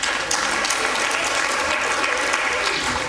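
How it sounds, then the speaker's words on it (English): Steady, dense applause from a crowd fills the whole stretch, loud and even without pause. "Another round of applause."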